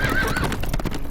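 A horse gallops with clip-clop hooves and lets out a neigh in the Game of Thrones Telltale video game, loud and close, filling the short moment without speech.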